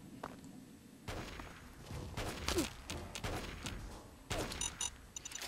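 Gunfire in the video game Fallout 3, several sharp shots in irregular bursts over steady game ambience, moderately loud and close, with footsteps and faint mechanical noises between them.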